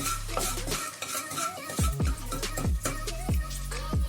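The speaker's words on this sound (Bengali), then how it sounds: "হিংটা 30 সেকেন্ড মতো ভালো করে নাড়াচাড়া করে নিতে হবে।" A utensil scrapes and clinks against a pan while asafoetida is stirred in hot oil. The strokes come close and repeat in a steady rhythm over a faint sizzle, with no talk.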